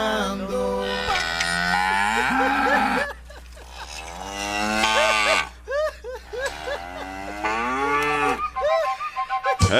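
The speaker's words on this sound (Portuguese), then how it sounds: "A vacada tá no pasto, trancada lá no curral, a bezerrada tá berrando" Calves in a corral bawl loudly in long, repeated moos that rise and fall, one call after another, with short pauses between.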